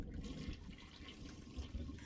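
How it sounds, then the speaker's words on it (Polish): A toilet flushes in the Garry's Mod video game, a steady rushing gurgle of water that runs continuously at moderate level with a few louder surges toward the end. "dobra, spukają wodę."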